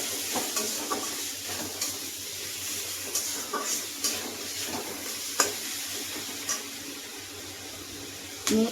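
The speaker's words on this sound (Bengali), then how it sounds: "এবার দিয়ে দেবো হলুদ গুঁড়ো খুব সুন্দর করে আমি কষিয়ে নেবো" Fish curry with turmeric powder being stirred and fried in a pan, a steady low sizzle under repeated soft scraping strokes of the spoon, close and moderately quiet.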